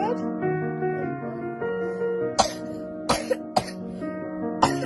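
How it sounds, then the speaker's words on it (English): A child with COVID-19 coughs several times in short, sharp bursts, interrupting ongoing close voices. "I know you still have that cough."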